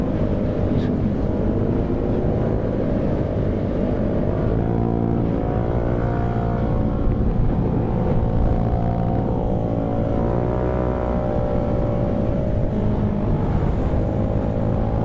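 A boat motor runs steadily and loudly throughout, a continuous low drone with people talking over it at times.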